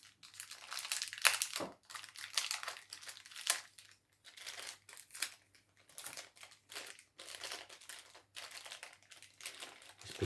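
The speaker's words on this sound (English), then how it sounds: "We just unwrap the stylus." Turntable stylus packaging is unwrapped close up, giving quiet, irregular crinkles and plastic rustles in short bursts over about ten seconds.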